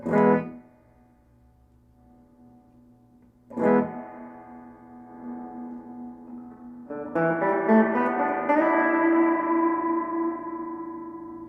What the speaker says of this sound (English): The reverb control allows you to add an echo effect to the guitar.